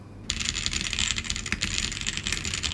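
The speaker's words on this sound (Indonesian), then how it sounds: "sekarang coba kita dengar lagi suara keyboardnya sebelum dimodif" Fast, continuous clacking of keys on a Vortexseris Mono keyboard in stock condition, close to the microphone, with dense rattling keystrokes after a brief quiet start.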